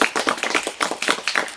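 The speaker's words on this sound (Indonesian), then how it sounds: "Tepuk tangan dulu untuk kelompok 1" A classroom group claps for the first group of students, a dense, rapid patter of many hands sustained at even loudness for under two seconds.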